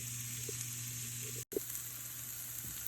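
Onions sauté in a skillet, giving a steady, faint sizzle with a soft stir or two; a brief dropout falls near the middle.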